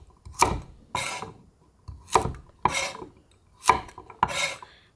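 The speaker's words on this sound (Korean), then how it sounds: "밤도 그냥 썰어주세요" A knife slicing chestnuts: six distinct rasping cuts in a steady rhythm, close and crisp with short pauses between strokes, and no voices.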